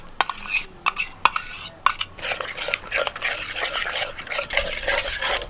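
A spoon stirs poppy seed and cashew paste mixed with sour yogurt in an iron wok, giving close, repeated scraping and clinking strokes against the metal in an irregular rhythm.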